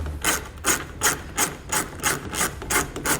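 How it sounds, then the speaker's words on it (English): A 7mm socket on a hand ratchet turning out a bolt on a 2016 GMC Sierra pickup, heard as a regular back-and-forth rasping click of the ratchet, about eight even strokes, close and alone. "you're going to want to grab a 7mm socket so we can pull that bolt out"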